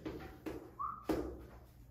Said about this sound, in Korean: 너 휘파람 소리가 나는데?